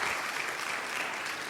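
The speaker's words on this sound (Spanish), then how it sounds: "Un aplauso al Señor, pero fuerte, fuerte, fuerte, fuerte." A church congregation applauds loudly for the Lord, a brief burst of dense, even clapping from many hands filling the room.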